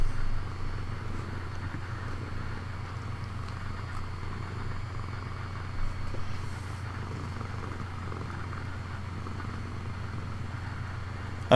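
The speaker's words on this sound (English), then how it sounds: "I don't know if you guys can hear him purring, but he's purring up a storm." A cat purrs steadily up close, a low rhythmic rumble pulsing evenly and continuously with no talking over it.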